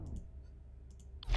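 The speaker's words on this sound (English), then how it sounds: "I'm just clicking buttons because I like to click buttons" Several quick mouse-button clicks in a dark game, a pair near the start and another pair just before a louder burst of game sound at the end.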